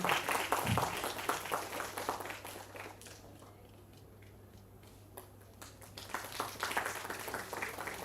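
A university student induction audience claps for a felicitated Swami, scattered distinct hand claps fading to a sparse lull midway, then picking back up, with a low steady hum underneath.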